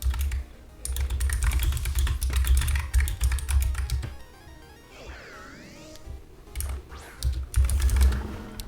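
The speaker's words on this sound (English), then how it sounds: "Sorry, I was typing a lot." A computer keyboard is typed on quickly and steadily, with dense clattering keystrokes close to the microphone. The typing pauses briefly midway, then resumes in short flurries.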